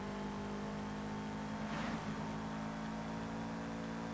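A Toyota GR86 rally car with an upgraded engine accelerates in Forza Horizon 5, giving a loud, steady engine drone that swells briefly midway and holds at full power throughout.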